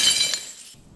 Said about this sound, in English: The window shatters and the fragments are blasted inwards.